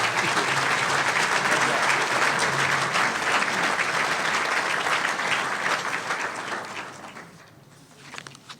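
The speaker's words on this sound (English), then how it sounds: "How about a big round of applause?" An audience bursts into loud, sustained clapping that gradually thins out and fades over several seconds, in a room with an Illinois Department of Transportation official.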